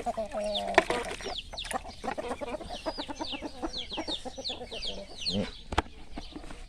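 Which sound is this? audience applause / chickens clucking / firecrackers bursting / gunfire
chickens clucking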